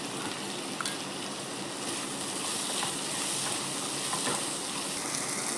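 Tomatoes with turmeric and onion sauté in a pan for brinjal kuzhambu, making a loud steady sizzling hiss throughout with faint clicks and no voices.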